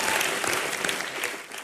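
Studio audience applause on the Indian TV comedy show Comedy Nights With Kapil, a dense burst of clapping from a large crowd, loud and continuous for under two seconds.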